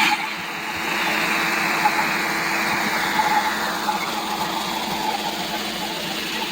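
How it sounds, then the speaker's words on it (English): A food processor blends a beef and lamb gyro meat mixture with a loud, steady motor whir whose pitch shifts slightly as it runs, with no voices over it. "so everything gets blended really well. The goal is to have this super slushy"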